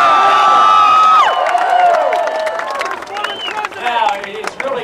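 At a Ron Paul speech in D.C. in 2008, a large crowd cheers, whistles and applauds loudly, then settles into scattered clapping and shouts.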